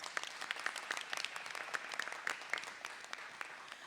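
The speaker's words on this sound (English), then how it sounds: "Let's give them a round of applause." Audience applause at an Albany High School board of education meeting honoring JROTC students, a steady crowd of many hands clapping, fairly distant and even throughout with no talk over it.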